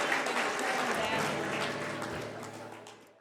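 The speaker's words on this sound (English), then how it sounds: "Have a big round of applause for those dancers," Applause from an audience for dancers at a stage show, with a burst of crowd clapping over other noise that fades away toward the end.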